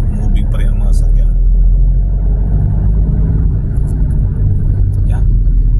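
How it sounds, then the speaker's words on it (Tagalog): Steady low road rumble and engine drone from inside a vehicle moving through light traffic on the SLEX expressway between Calamba, Laguna and Sto. Tomas, Batangas, continuous and fairly loud, with a person talking over it. "May traffic mga kaunti pero moving pa rin ang mga sakyan."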